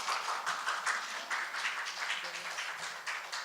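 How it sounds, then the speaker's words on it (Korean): An audience at a community media center presentation in Daegu claps steadily, a continuous patter of many hands applauding at moderate volume with no talking. "박수로 맞아주세요."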